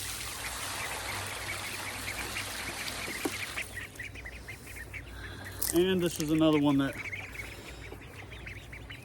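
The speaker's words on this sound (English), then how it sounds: "these are Peking and Indian Runner cross ducks" Pekin and Indian Runner cross ducks on a farm give a short run of loud, close quacks midway through, with someone talking before and over them against outdoor background noise.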